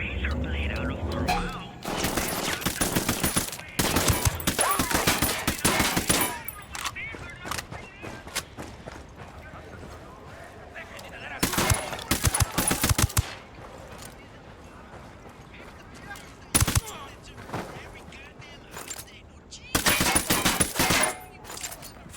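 Gunfire bursts from a Ghost Recon Wildlands shootout, loud volleys of rapid shots in several clusters separated by quieter gaps, with faint voices in between.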